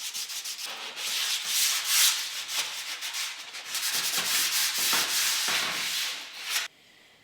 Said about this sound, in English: Then give them a good final clean and sand.